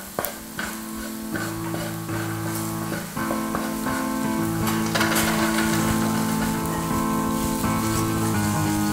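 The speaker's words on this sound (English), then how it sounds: "I'm going to continue stirring my roux, looking for that nice dark brown color" A dark roux sizzles in a pan with shallots while being stirred, a dense crackling fry broken by repeated scraping and clinking strokes of the utensil, close and fairly loud, with no talking.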